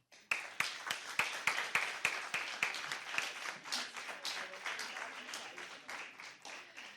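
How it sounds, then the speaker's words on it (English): Audience at a secondary school debate competition applauding after a speech: a burst of many clapping hands starts abruptly, stays dense and lively, then thins and fades gradually. "Another round of applause for Team Clay Hall Secondary School and Anya"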